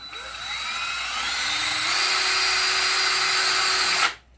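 A power drill whines steadily at high speed for about four seconds while drilling a PVC cap, rising slightly in pitch, then cuts off abruptly. Close and loud, no talking.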